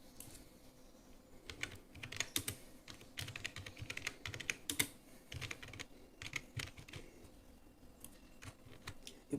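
Typing on a computer keyboard to enter a name for a new Google Forms form: irregular bursts of quick, close key clicks with short pauses between words, no voices.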